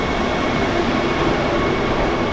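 The Sabarmati Vande Bharat Express pulls out of an Indian railway station, a loud, steady, close rumble and roar of rolling coaches that fills the whole span with no talking.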